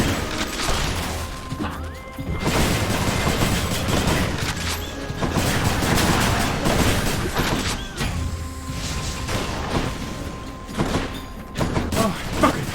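Rapid gunfire in a video game, a steady dense barrage of loud shots and crashes running almost continuously with brief breaks, layered over game effects and tones.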